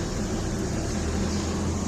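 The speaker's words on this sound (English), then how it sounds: "that noise is the air conditioner running" An air conditioner runs near a home deck, a steady, even mechanical hum with a low drone and broadband whir that holds unchanged throughout, alone without talk.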